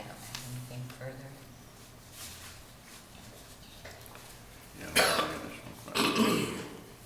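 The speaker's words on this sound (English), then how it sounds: "I was coughing" A person coughs twice in a row, two harsh close bursts near the end, after a stretch of muffled low voices and room noise.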